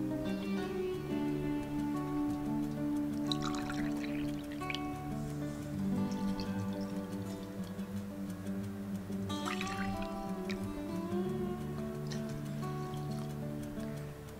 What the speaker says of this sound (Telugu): ఇందులో ఒక 2 గ్లాసెస్ వాటర్ని యాడ్ చేసుకోవాలి